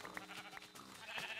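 Sheep bleat in a farming video game, several short calls close together over a steady background of game music and ambience.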